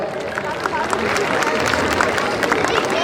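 A crowd applauds steadily for a few seconds at a masquerade ball, dense clapping filling the room with some voices mixed in.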